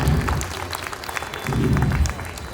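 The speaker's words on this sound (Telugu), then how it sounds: "పురుషుల చేతులు కట్టి చప్పట్లు కొడదాం, పురుషులందరూ కూడా." Men clap together at a church Christmas gathering, a brief burst of steady applause that swells, dips slightly, then rises again over low room murmur.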